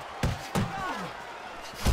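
Punches land with sharp thuds in the Fight Night Champion boxing game, three or four distinct blows spaced across two seconds over a low game background.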